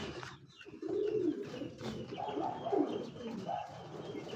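Several pigeons coo repeatedly nearby, soft throaty calls overlapping in a low, continuous murmur with faint chirps in the background.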